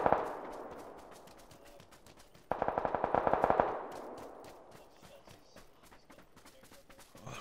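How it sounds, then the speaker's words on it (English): Rapid bursts of video-game gunfire from other players on Xbox, a dense clatter at the start and a louder sustained automatic volley in the middle, with scattered distant shots continuing throughout. "There's people shooting to the left."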